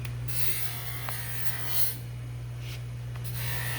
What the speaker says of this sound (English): You have to love how he's got his grinder set up.